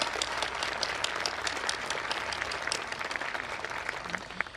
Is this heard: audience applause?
yes